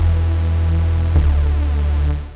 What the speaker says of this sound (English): you can hear there's so much bottom end now to this already low bass sound.